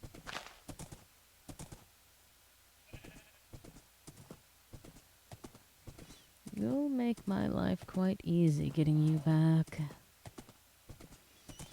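A horse in Minecraft clops along with regular, evenly spaced hoof steps, then a burst of whinnying or animal calls rises over the steps while a person talks quietly.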